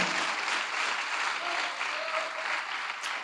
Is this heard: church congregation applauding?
yes